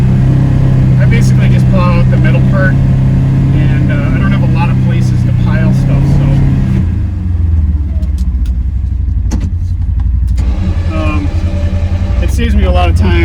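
A 2025 Polaris Ranger XP1000 NorthStar UTV engine rumbles steadily in gear while plowing snow, a continuous loud drone with someone talking over it most of the time.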